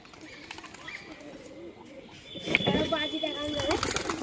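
Pigeons kept for sport are released by hand, giving close coos and calls that rise toward the end, while someone talks over them.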